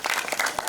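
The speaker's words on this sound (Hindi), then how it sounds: "let's give them a huge, huge round of applause" Short burst of audience applause at a flag-hoisting event celebrating India at 75, a quick, moderately quiet patter of many hands clapping together with no talking.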